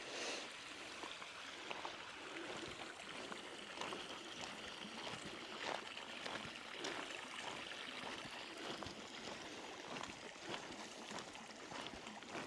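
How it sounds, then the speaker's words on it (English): A stream flows through a valley in the Cheviot hills during a heatwave, giving a steady, close, broadband rush and trickle of water that continues unbroken throughout. "Love to hear the sound of the streams and"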